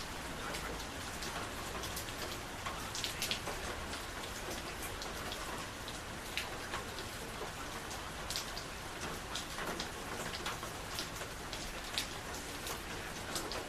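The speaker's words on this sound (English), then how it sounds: "now the rain wants to stop when we turn the music off" Steady rain falls outdoors, a dense continuous hiss with scattered louder drop patters across the whole stretch, moderately loud and with no voices.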